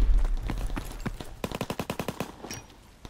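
Automatic weapon fire in the World War II shooter Call of Duty: WWII, a rapid rhythmic burst of a dozen or so shots, fairly close, with a few scattered earlier shots, no talking.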